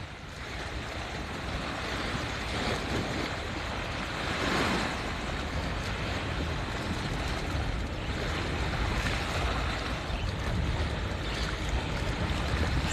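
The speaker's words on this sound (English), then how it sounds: "Now take a look at the waves hitting the sun ray right now." Ocean surf at Haulover Inlet in Miami at sunrise forms a loud, continuous roar of breaking waves. It swells and eases in slow surges, with wind noise mixed in and no voices.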